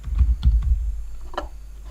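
A computer keyboard clicks in a few soft, close keystrokes, irregular and sparse, over a low steady hum.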